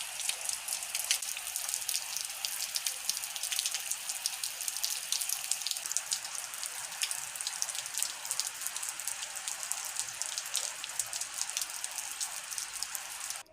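Rain falls outdoors in a rural village yard, a soft, even patter of drops holding steady throughout, quiet and continuous with no voices.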